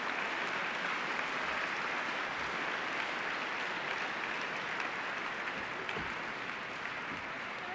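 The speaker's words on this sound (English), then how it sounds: "Nice round of applause for our 16 top schools." An audience at the 2014 National Science Bowl awards ceremony gives a sustained round of applause for the top schools, a dense, even clapping that holds steady throughout with no talking over it.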